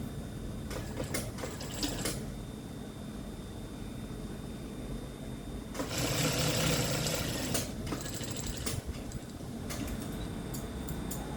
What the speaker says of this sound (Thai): เราก็เย็บเข้าเลย มันมีสองชั้น เย็บทีละชั้น